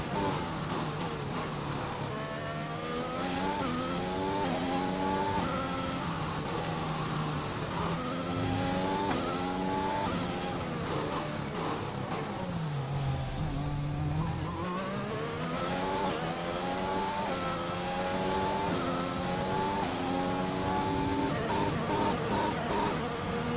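A Formula 1 race car in F1 2021 running with a gearbox issue, its high engine note howling steadily and rising and falling through the gears across the whole stretch, loud and continuous with no voices.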